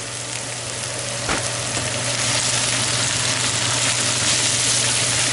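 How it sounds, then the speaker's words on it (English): Red cabbage frying in bacon fat in a pan, a loud, steady close sizzle with a low hum underneath and one brief knock from stirring partway through, no talk. "Give it a nice stir, make sure it's all coated with all the bacon fat."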